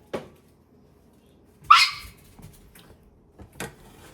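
A dog in a kitchen lets out one sharp, loud yelp after its foot is stepped on, then a few faint shuffles and a softer whimper-like sound.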